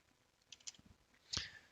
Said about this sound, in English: I'm typing it in, so feel free to follow with me on your own calculator